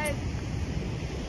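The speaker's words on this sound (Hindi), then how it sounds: "यहाँ पर बड़ा खतरनाक सीन है एकदम, काफी तेज पानी चल रहा है" Fast, turbulent water rushes through a large dam in Shahjahanpur, making a dense, steady roar close by, with wind buffeting the microphone.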